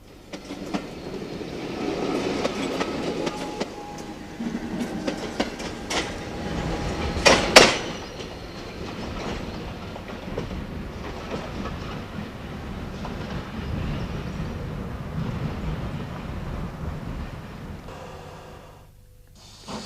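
Auto trains running on a railway near Gravesend in the late summer of 1959, a steady rumbling passage with clattering wheel noise and a sharp metallic squeal partway through before fading away.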